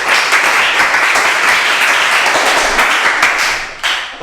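Classroom applause from students after a pupil's answer in a programming lesson, loud dense clapping close by, continuous for about four seconds before cutting off.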